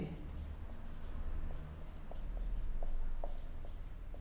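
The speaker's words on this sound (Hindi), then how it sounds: "चलो मैं लिखता हूं" Handwriting with pen on paper gives soft, scratchy strokes and faint taps, close and quiet over a low background hum.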